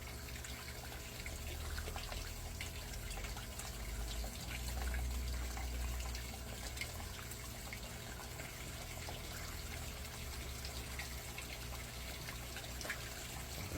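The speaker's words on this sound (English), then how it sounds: "Oh man, they splashing like crazy." Bluegill fish splash and churn at the surface of a tank while feeding, producing a constant watery rushing and sloshing, close and steady throughout with no talking.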